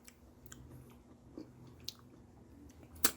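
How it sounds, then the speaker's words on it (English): Someone bites into a slice of Myrica rubra fruit and chews it. The chewing is quiet and close, with a few soft wet crunches and one sharper bite near the end. "Let's move on to the taste test of the Myrica Rubra. This is a slice that I took off."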